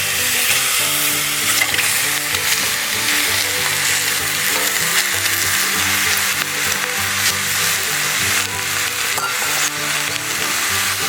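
Chicken, washed with turmeric, frying in a kadai alongside two large chopped onions: a loud, steady sizzle that stays continuous throughout, with no voices.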